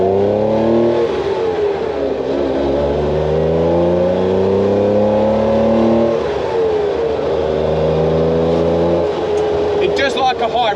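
A Porsche 911 with a 2.2L engine revs hard and climbs to a high pitch through rising gears, loud and close from inside the car, as people talk over it.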